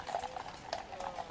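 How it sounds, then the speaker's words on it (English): Household Cavalry horses' hooves clip-clop on hard ground at a steady walking pace, a series of crisp, fairly quiet strikes heard from a short distance with faint background murmur. "The riders have these horses"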